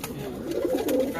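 A male pigeon coos briefly at close range, a low throaty rolling call, with a faint voice in the background.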